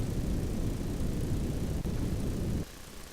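Rocket engines roar through a deorbit burn in Kerbal Space Program, a steady loud low rumble that holds, then drops off sharply near the end as the engines cut.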